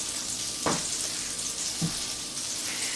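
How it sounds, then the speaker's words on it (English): Butter and oil sizzle steadily in a hot frying pan before potato pancakes go in, a close, even crackling hiss with a couple of soft clinks. "Let that butter melt. Nice hot oil and butter for that potato pancake for frying."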